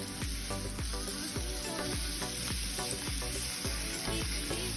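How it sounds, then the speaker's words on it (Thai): Sliced beef sears in a dry pan over high heat with no oil added, a loud continuous sizzle punctuated by a regular series of sharp spatula scrapes and taps. "เราก็เอาเนื้อสไลด์เนี่ยไปจี่บนกระทะค่ะไม่ต้องเติมน้ำมันนะคะ"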